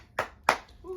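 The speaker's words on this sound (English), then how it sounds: "Applause." Two loud, close hand claps about a third of a second apart, followed by a faint voice, as a small group closes out a marriage therapy session.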